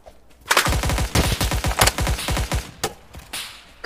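Rapid bursts of automatic gunfire in a Vietnam-era military shooter game, a dense rattling volley of close, loud shots lasting a couple of seconds, followed by a few scattered shots farther off.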